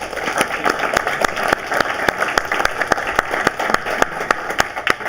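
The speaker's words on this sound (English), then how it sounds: "You can clap that shit up." An audience applauds at a real estate talk, with scattered individual claps standing out as sharp, evenly spaced snaps over a steady bed of crowd clapping.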